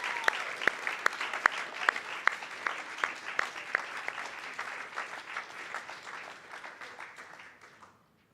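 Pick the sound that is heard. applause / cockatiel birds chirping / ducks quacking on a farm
applause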